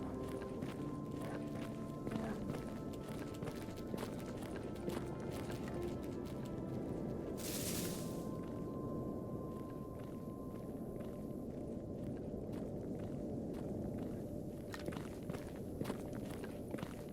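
Footsteps in the game Stalker GAMMA, a steady run of soft, rapid steps through tall grass, faint and fairly close, under a constant low ambient hum, with one brief hissing burst partway through.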